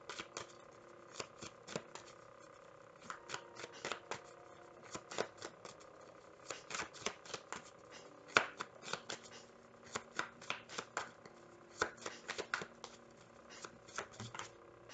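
Tarot cards are shuffled by hand, producing a quiet, close series of crisp papery slaps and riffles in an irregular rhythm throughout, with no voice heard.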